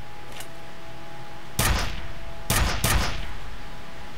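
Gunfire from a weapon in the F.E.A.R. demo game: three sharp, loud bursts of shots, one short and two close together, over a low steady background.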